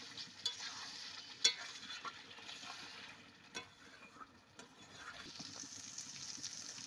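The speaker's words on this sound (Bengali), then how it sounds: "ডিম আর মটরশুঁটি দিয়ে আমি আরও কিছুক্ষণ কষিয়ে নিচ্ছি।" Eggs and peas are stirred and fried in curry masala for a dhaba-style egg curry, giving a faint, soft sizzle broken by scattered scraping stirs and light knocks of a spoon against the pan.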